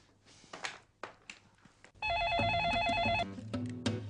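A landline telephone rings loudly and steadily in an indoor office setting, its electronic warbling tone continuous for about two seconds after a stretch of faint background rustling and small knocks, with no voices.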